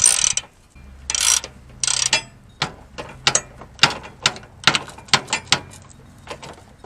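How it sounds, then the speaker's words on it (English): Socket wrench ratcheting on a Poulan mower spindle, loud close bursts of metallic clicks at first, then separate sharp ratchet strokes at an uneven rhythm, no talking. "Now I'll use socket wrench."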